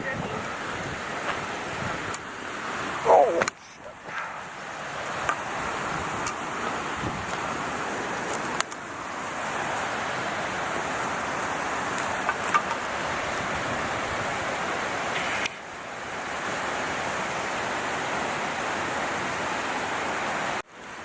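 Water runs steadily from a small spring right on the Ice House Canyon trail, a continuous broadband rush mixed with gusty wind noise on the microphone, with no clear pauses.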